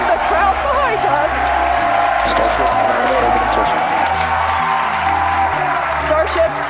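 At a SpaceX Starship launch, a crowd cheers, whoops and applauds continuously, heard beneath steady talk.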